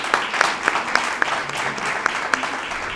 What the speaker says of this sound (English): Let's give Faye a round of applause.